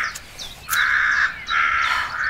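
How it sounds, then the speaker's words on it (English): Crows cawing in two long, loud harsh calls, each lasting about half a second, with a brief gap between them and quieter bird sounds before the first call. "those are the calling birds"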